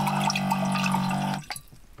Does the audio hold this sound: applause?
no